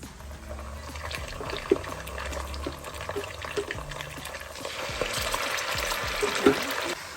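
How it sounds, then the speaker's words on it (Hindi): Browned onions fry in a pan as ginger garlic paste goes in for a vegetable biryani, giving a steady moderate sizzle with occasional stirring and scraping, and no talk. "अभी इसमें हम डालेंगे 2 टेबलस्पून अदरक लहसुन का पेस्ट"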